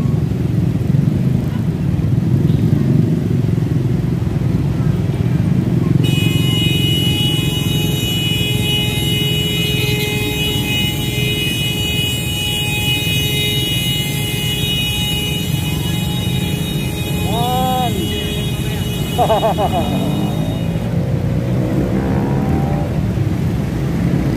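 Heavy road traffic on a congested stretch from Visayas Avenue toward Zabarte, with loud continuous engine rumble from cars and motorcycles, a sustained horn blast, and passing vehicles close by throughout.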